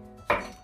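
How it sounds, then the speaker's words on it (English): A single knife chop through carrots on a cutting board, one sharp close thud of the blade, with a little low background noise around it. "cutting my carrots here, as you can see."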